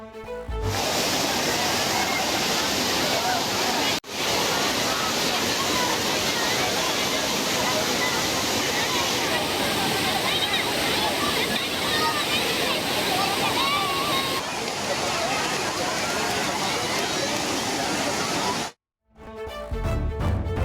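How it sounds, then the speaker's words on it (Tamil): Water pours heavily over Kodiveri dam like a waterfall, a dense, steady roar of cascading water that stays loud and unbroken for most of the stretch before cutting off abruptly near the end. "அருவி போல கொட்டும் தண்ணீரில் குளித்து சுற்றுலா பயணிகள்"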